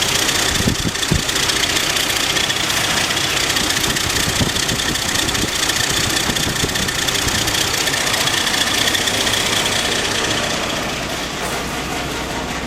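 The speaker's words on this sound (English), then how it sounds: "That sounds like an old Jeep." AMC Eagle with a 258 engine idling after a TFI ignition swap, a steady rough rumble with some knocking, close and continuous for the whole stretch, easing slightly toward the end.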